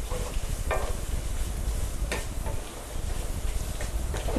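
Green and red chillies fry in a pan for rice sevai, giving a soft continuous sizzle with a few scraping stirs and light clicks, heard close and fairly quiet.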